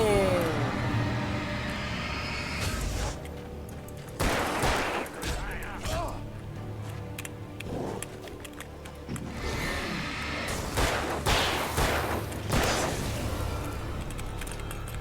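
Gunfire in the video game Alan Wake, several sharp bursts of shots in clusters with mechanical clatter between them, over a droning game background with occasional voices.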